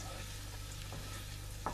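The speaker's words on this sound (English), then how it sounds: "the stirring of onions" Onions being stirred and fried in a pan for a chicken stuffing, or skirlie, give a steady low sizzle with a couple of soft scraping stirs near the end. No one speaks.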